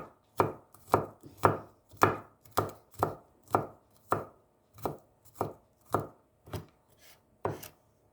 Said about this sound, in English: Cut, slice, and chopped 1 spring onion.